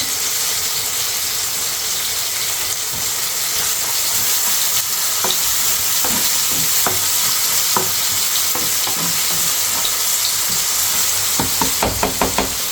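Chili goes into hot oil for a mixed dal and sizzles steadily, close up, while scraping stirring clicks grow busier toward the end. No one talks.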